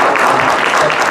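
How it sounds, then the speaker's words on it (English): Audience applause at a soundtrack panel during a fan convention, steady broadband clapping filling the room for about a second with no speech. "applause for that"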